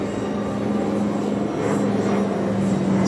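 Vintage propeller transport aircraft, a DC-3 C-47B or Noratlas 2501, fly over at an air show at Hyères naval air base, with a steady loud droning engine roar that swells slightly as they pass.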